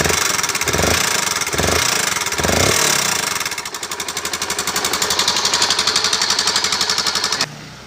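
A noisy Honda NS160 motorcycle engine runs close by, low on oil, with a harsh rattling, clattering mechanical tone and uneven throbbing idle that steadies into a rapid ticking drone before cutting off near the end.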